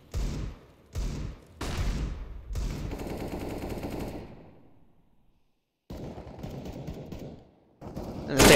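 Counter-Strike: Global Offensive gunfire on the Cache map during a competitive match, with several sharp bursts of shots, a longer rattling volley, a brief silence, then more firing.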